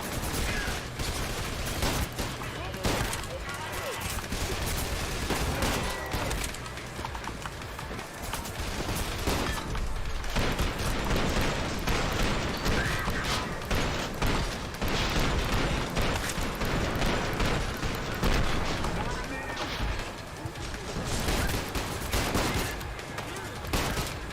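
Sustained video-game gunfire as characters shoot each other, loud, dense and continuous bursts of automatic fire with occasional booms running unbroken throughout, with a voice talking over parts of it.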